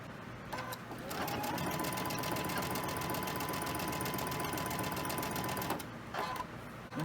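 A sewing machine runs steadily, stitching quilt pieces for an autumn acorn quilt block, with a rapid even whir for about five seconds, close and clear, and brief pauses at the start and end.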